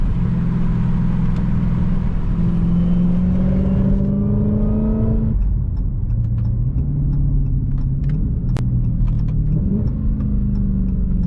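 A car with a loud aftermarket exhaust drones steadily while driving, its engine note rising and shifting, with a scatter of sharp exhaust pops crackling over the rumble in the second half.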